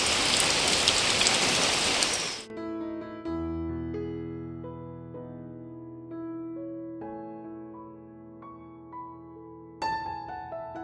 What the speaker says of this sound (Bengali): সেজন্যই হয়তো বৃষ্টি হচ্ছে দেখো